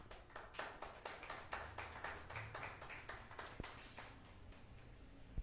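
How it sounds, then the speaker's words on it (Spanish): Congregation applauding during a church service, a steady patter of many hands clapping at moderate distance, fairly quiet and continuous with no talk over it. "Démosle un aplauso al Rey de Gloria"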